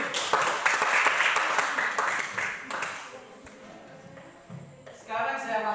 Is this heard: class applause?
yes